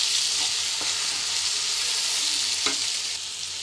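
Bitter gourd fry gets stirred in a pan, giving a loud, continuous frying sizzle and hiss with a couple of faint utensil scrapes and taps. No voices.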